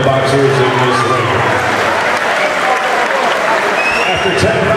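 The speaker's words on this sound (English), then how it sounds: "let's have a big round of applause for both of the boxers in this ring." A boxing crowd applauds both fighters in the ring after ten rounds, loud sustained clapping and cheering that runs under an announcer's voice.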